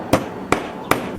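Three evenly spaced, sharp hammer blows drive a nail through a wooden board, each strike close and crisp with a quick ring-off, and no speech.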